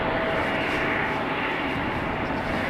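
An Embraer jet approaches at Amsterdam Schiphol Airport with a loud, continuous, broadband engine roar that holds steady throughout.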